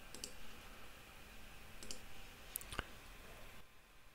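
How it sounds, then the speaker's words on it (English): A computer mouse clicks in the Kdenlive video editor: one sharp, close click stands out near the end, with a few fainter taps earlier over a low room hiss. "And then I'll click here to get my transitions."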